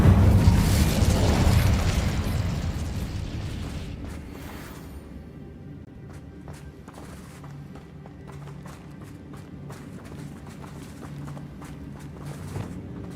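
A fiery Incendio spell bursts in Hogwarts Legacy, a loud broadband blast at the start that rolls off over a few seconds into a lower rumble with scattered crackles and impacts, no talking.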